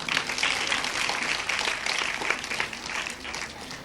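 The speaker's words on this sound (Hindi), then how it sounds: "हम लोग सब मिलकर एक बार जोरदार तालियों से करें" An audience at a painting exhibition opening claps loudly and continuously, a dense wash of applause that holds steady before easing slightly at the end.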